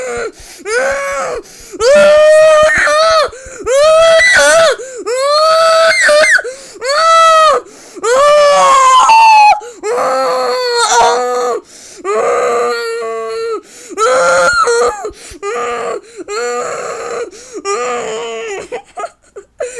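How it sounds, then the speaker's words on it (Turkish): A person screams and shouts in loud, wailing, repeated bursts while playing Marvel Contest of Champions, with strained, high cries coming close together for about twenty seconds. "ne bağırıyorsun?"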